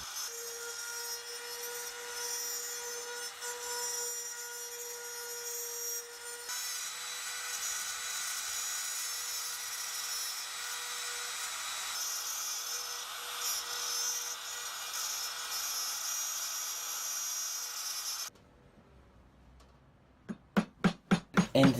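A trim router cuts a bow tie recess into a wooden pot coaster, a loud steady high whine running for about eighteen seconds before cutting out, followed by a few sharp knocks near the end.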